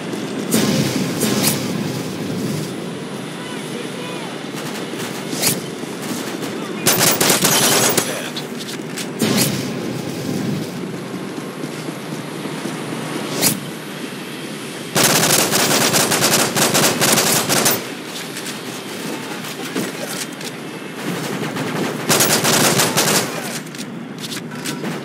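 Automatic gunfire from the Call of Duty Modern Warfare 3 video game in Infection mode, with repeated loud bursts of rapid fire broken by short pauses and steady game background noise.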